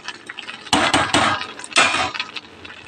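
Metallic clinks and scrapes of a pot of cooked rice being lifted off a kitchen stove, a few sharp close knocks with short bursts of handling noise in between.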